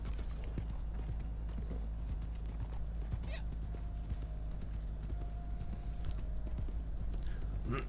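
A horse in the Red Dead Online video game clip-clops along at a steady walking rhythm, hooves close and clear, with an occasional soft whinny and a voice talking over it.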